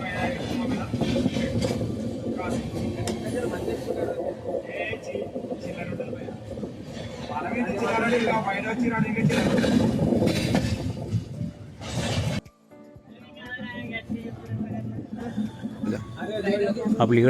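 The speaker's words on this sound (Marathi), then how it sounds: "आता आपली गाडी सिकंदराबादकडे जात आहे" A train runs along the line toward Secunderabad, its steady rumble and rattle carrying beneath continuous talking and occasional laughter, with a brief sharp dip in the noise partway through.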